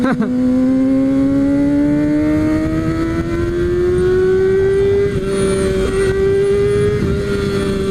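A Kawasaki Ninja ZX6R sport motorcycle engine holds a steady high drone, its pitch slowly climbing as it revs, loud and close throughout.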